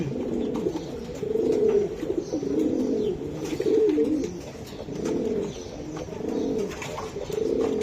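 Racing pigeons coo at a breeder's loft where birds sit on eggs, a steady run of soft, throaty, rolling calls repeating close by with no talk.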